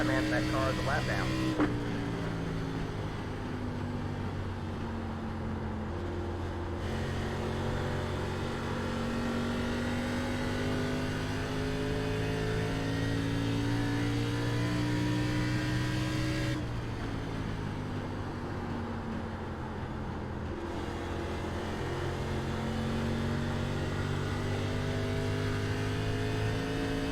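Race car engines roar in an iRacing ARCA Series race at Phoenix (2008 layout). It is a loud, sustained drone whose pitch sweeps up and down as the cars accelerate and lift through the corners, with talk running over it.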